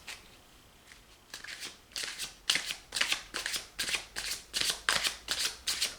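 Tarot cards shuffled by hand, about a dozen quick riffling bursts in a steady rhythm after a quiet start, close and fairly soft, with no talking.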